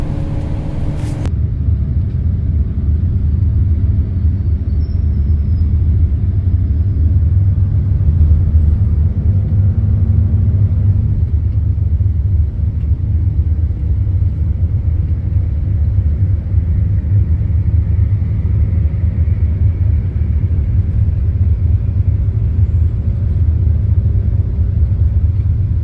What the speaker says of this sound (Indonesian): Kita akan naik bis kita yang asli, yaitu Yusel JB5 Hino RK